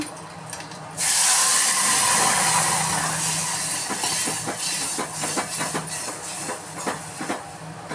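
A sharp burst of sizzling as hot tempering hits cooked dal for sambar, a loud hiss starting abruptly and gradually easing into softer crackles and pops.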